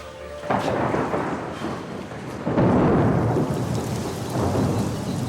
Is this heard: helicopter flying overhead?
no